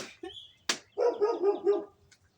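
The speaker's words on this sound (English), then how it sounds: "And there goes the dog again." A dog barks out in a garden, one sharp bark followed by a rapid run of four or five close, loud barks, with no talking over them.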